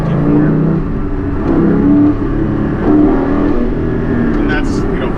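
Porsche 718 Spyder engine pulling hard through the mid-range around 4,500 to 5,000 RPM, a loud steady drone with rising revs heard from inside the car, with someone talking over it throughout.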